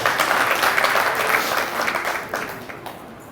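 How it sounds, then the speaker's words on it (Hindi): Lecture audience breaking into applause, a thick burst of many hands clapping together that thins and fades over a few seconds. "तालियां बजाओ जी इस बात पे।"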